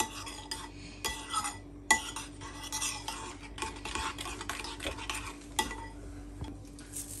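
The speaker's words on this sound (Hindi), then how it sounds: "मसाला, red chilli powder 1 teaspoon, half tea spoon cumin powder और हाफ़ टी स्पून साल्ट है। अब इनको हम अच्छे से मिक्स कर लेते हैं।" Red chili powder, cumin powder and salt are stirred together in a bowl, giving close, steady scraping and clinking strokes with brief pauses, with no one speaking.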